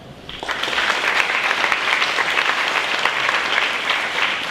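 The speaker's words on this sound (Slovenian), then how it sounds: "Prosim, en aplavz." A large crowd breaks into sustained, steady applause that starts suddenly and continues at full strength, with no speech over it.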